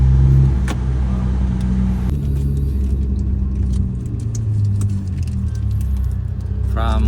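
A car travels the road from Candon City, Ilocos Sur toward San Fernando, La Union, giving a steady low engine and road rumble throughout, with some jangling and people talking faintly inside.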